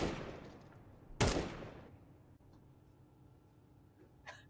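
Gunfire from an AK rifle spray in Counter-Strike 2 during a competitive esports playoff match, one loud sharp burst near the start followed by fainter trailing shots and a brief crack near the end, under broadband game noise.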